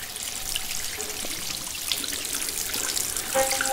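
Water is poured for drinking in a film scene, a steady, continuous trickle and splash that runs throughout at an even, moderately close level, with no speech.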